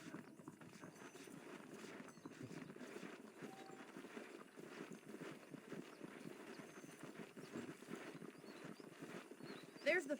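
Steady clopping of saddled horse hooves at a walking pace in the video game Red Dead Redemption, moderately quiet, with a faint background hum and no clear speech.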